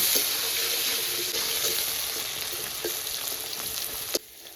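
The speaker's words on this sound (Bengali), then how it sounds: "একই তেলে আলুগুলো ভেজে নেব" Steady, loud sizzling of potatoes with turmeric and salt frying in hot oil, with occasional soft stirring clicks and no talking.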